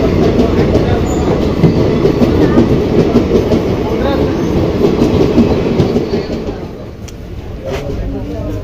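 A train rumbles loudly along the rails with steady clattering, heard from on board or close by, while people talk faintly underneath; the roar eases slightly toward the end.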